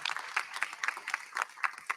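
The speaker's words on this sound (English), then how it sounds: "Let's go ahead and give everybody a round of applause." An audience at a conference meet-and-greet gives a round of applause, a steady patter of many hands clapping at moderate distance, continuous for the whole stretch with no voices on top.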